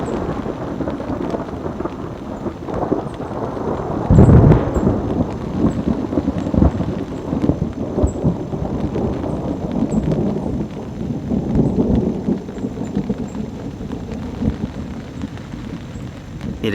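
A mountain thunderstorm at a camping spot, with rolling thunder rumbling continuously under steady rain, one heavy crack of thunder near the start and long low rumbles throughout.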